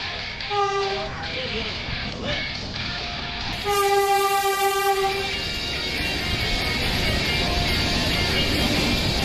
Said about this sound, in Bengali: নির্ধারিত সময় থেকে 27 মিনিট লেটে ট্রেন এসে পৌঁছালো রামপুরহাট স্টেশনের 3 নম্বর প্ল্যাটফর্মে।